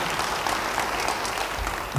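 A church congregation applauds during a sermon, a dense, loud burst of clapping from many people filling the whole moment.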